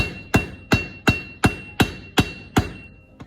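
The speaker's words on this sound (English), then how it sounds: "We're just going to hammer it to try and get that symmetrical curve, the really slight curve on this Type A axe." A hammer strikes red-hot iron being forged into a Type A axe, with eight sharp, ringing blows in a steady rhythm, each under a second apart, and the final blows slightly softer.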